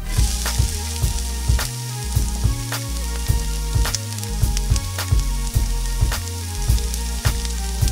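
Onion fries in hot butter, giving a loud continuous sizzle with sharp crackles and pops. A low rhythmic thumping runs underneath throughout.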